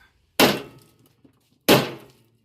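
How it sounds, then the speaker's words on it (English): A framing hammer strikes a rusty go-kart rim twice, each blow a loud, sharp metallic crack with a short ringing decay, spaced about a second and a half apart with quiet between. "Framing hammer."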